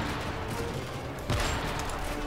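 Muffled gunfire in Call of Duty: Modern Warfare 3 rattles steadily at a low level, with one heavier sniper shot standing out partway through.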